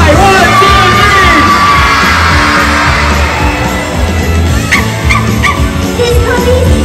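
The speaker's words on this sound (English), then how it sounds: "Everyone shout out Sky!" Children and families in the audience at a Paw Patrol Live show in Abu Dhabi shout a character's name together, a loud massed burst of yelling and cheering echoing through the arena.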